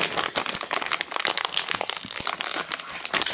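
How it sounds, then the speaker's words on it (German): A bag of Huligan Pretzel Crush Honey Mustard snacks is torn open, its plastic packaging crinkling and crackling continuously up close with no talk. "Jetzt machen wir es auf. Die Packung."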